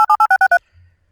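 Six quick loud DTMF keypad tones generated in Audacity, evenly spaced two-pitch beeps lasting about half a second, followed by a faint low thump and silence.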